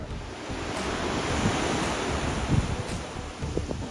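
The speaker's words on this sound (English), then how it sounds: "right now the waves are getting a bit rough on the waves" Rough ocean surf surges against the rocky coast at Point Reyes, a continuous loud wash of breaking water mixed with gusting wind buffeting the microphone, with no voices.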